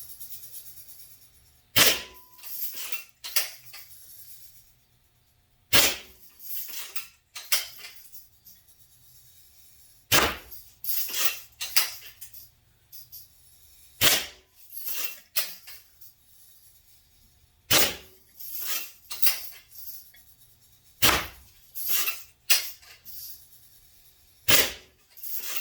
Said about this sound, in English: we'll do some soda can shots, still at the same distance